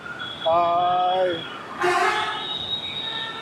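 A Patna Metro train in Bihar, with a tonal horn or whistle-like sound followed by a brighter burst of train noise, heard close up.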